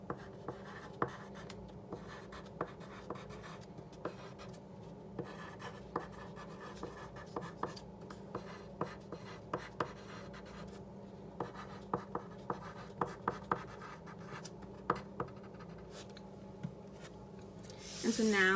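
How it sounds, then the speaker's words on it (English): A pen scratches steadily on paper, with quiet, close strokes forming a continuous rhythm of small ticks and scrapes that ends with a brief louder rustle. "I'm going to write down that you are a great older sister"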